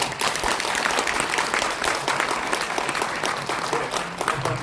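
Seated audience at an election-fraud expo event gives a lawyer a loud, sustained round of applause, dense and continuous clapping filling the whole stretch with no speech over it.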